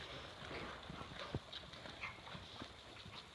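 Horse hooves beat on an arena surface during a canter transition in a dressage lesson, faint and distant rhythmic clip-clop thuds under a steady background.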